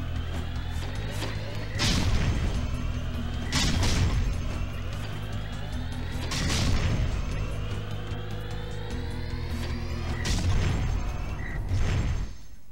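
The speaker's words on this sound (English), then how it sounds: "Not bad shooting, Dark Boy." Repeated booming blasts and gunfire in the Jak 3 video game, a few heavy explosions spaced every couple of seconds over a dense, loud game soundtrack with mechanical whooshes.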